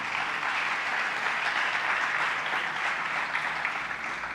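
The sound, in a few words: church congregation applause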